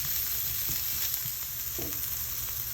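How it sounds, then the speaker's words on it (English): Shallot cooking in hot oil in a pan, a steady, fairly loud sizzle and hiss running throughout with a few faint stirring scrapes, no voices. "Add the shallot. Cook for 1 minute, making sure shallot does not stick."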